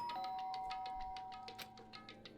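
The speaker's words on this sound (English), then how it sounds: "not making a sound and pressing the doorbell" A soft electronic doorbell chime from the video game Danganronpa: Trigger Happy Havoc rings out, sustained and clear, over a faint rapid ticking or tapping pattern, quiet and close.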